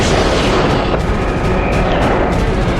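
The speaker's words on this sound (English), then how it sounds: "The F-15 gains radar lock. Dozer fires 2 missiles." An F-15 firing two missiles: a loud continuous roar of launch thrust with broadband rushing noise, sustained and close, without speech.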